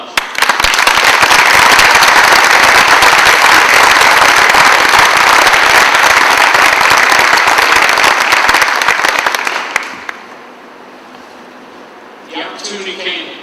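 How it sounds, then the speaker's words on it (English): An audience at a Marine Corps event gives a loud, dense round of applause that runs steadily for about ten seconds, then cuts off, leaving quiet room tone and a faint brief sound near the end. "I think you deserve another round of applause"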